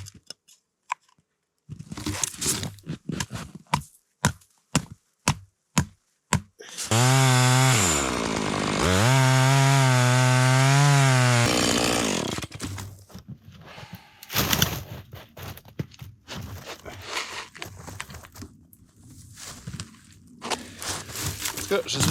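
A chainsaw bites into wood in the cold outdoors, a loud sustained buzzing cut lasting several seconds, framed by sharp knocks and clatter before and a voice talking afterward.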